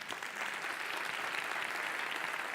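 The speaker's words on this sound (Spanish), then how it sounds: "Denle un fuerte aplauso a la palabra." Audience applause in a church service after a sermon, a steady even wash of clapping heard from a distance, fairly faint and without speech.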